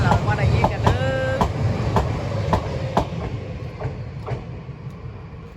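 A train in Denmark rolls past with rhythmic clickety-clack of wheels over rail joints and a brief metallic squeal, steady and fairly close.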